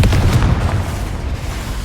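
A Confringo fire spell explodes in Hogwarts Legacy as a loud, deep boom that fills the whole moment, then rumbles on with only a slight fade.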